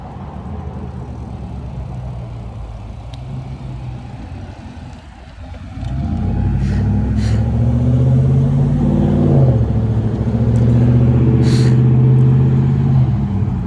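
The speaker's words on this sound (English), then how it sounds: "Just when I am silent, you hear all these loud cars." Loud cars pass close by on a road, a steady rumble building into a heavy roar of engines and tyres that holds for several seconds, with no talk over it.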